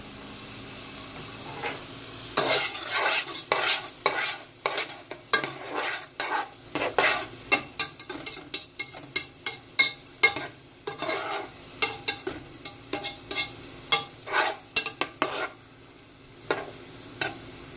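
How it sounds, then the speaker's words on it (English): Chitterlings sauté in a pot, a low sizzle under repeated close scraping and clinking strokes of a spoon stirring them, rhythmic and fairly quick, with no talking. "You want to make sure you saute these girls good."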